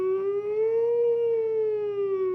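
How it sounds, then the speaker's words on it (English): A siren sound effect gives one smooth wailing tone that rises slowly and then falls again, loud and steady, with no other sound. "I think the siren is very sexy sound."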